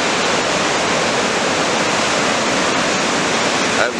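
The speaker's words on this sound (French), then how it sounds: "il y a des vagues sur tous les spots anglois" Ocean surf breaking at the Anglet beaches on the Basque coast at a rising low-coefficient tide, a continuous broad roaring wash of waves, loud and steady, with no voices heard.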